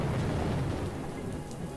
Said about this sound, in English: She was standing out in this rain all day, talking to herself.